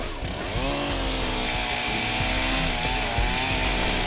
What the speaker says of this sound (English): So they break out the chainsaw.